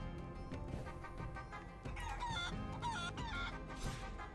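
A chicken clucks in a video game, a run of choppy, nasal clucks and squawks that grow busier and louder toward the end. The clucking is heard alone, without speech.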